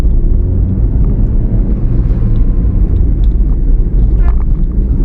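Hyundai i10 (2009) petrol engine at full throttle in second gear on a test drive, a loud steady low rumble and drone that holds constant for the whole stretch, with no voices over it.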